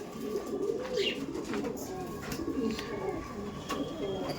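Kaldom pigeons coo softly and repeatedly at a loft, with low murmuring calls overlapping and a faint chirp now and then, and no speech.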